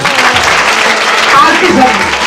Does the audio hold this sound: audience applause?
yes